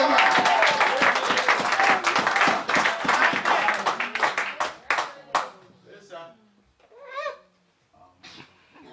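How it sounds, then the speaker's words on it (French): Church congregation applauding and clapping loudly, dense at first then thinning into scattered claps and fading, with voices calling out near the end. "Donnez une acclamation."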